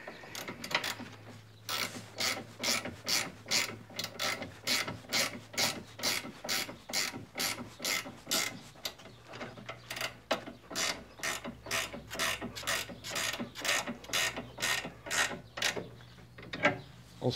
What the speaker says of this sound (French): J'ai essayé de resserrer sans mettre la clé Allen au milieu.